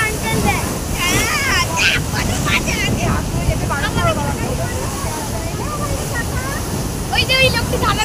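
Sea waves at a beach make a steady, broad rushing wash, with people talking and calling out over the surf.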